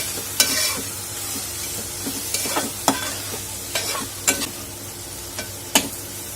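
A spoon scrapes and stirs fish pieces coated with turmeric, garam masala and red chili powder in a pan for a dry fish dish, giving about eight sharp, close scraping strokes over a soft sizzle, with no voices.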